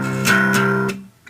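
Electric guitar strums its three open bottom strings in a 1-1-2 pattern, a few loud close strikes ringing out and then cut off short, with no talking.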